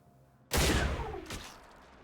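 Gunfire in the video game Mass Effect 3: a loud, close burst of shots begins suddenly after a quiet moment, followed by a second, weaker report about a second later.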